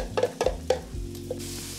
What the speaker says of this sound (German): Ich tue jetzt meine Zwiebel, Knoblauch, Chili, rote und gelbe Paprika hier in die Pfanne und werde die jetzt für 5 Minuten andünsten